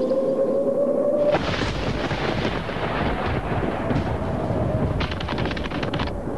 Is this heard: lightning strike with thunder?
yes